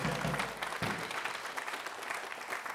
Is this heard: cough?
no